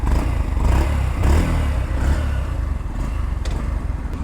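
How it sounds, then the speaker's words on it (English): Exhaust of a 150cc Yamaha FZ-X motorcycle idling up close, a low steady thrumming burble with a few slight swells in revs and some mechanical clatter. "This is how the exhaust sounds."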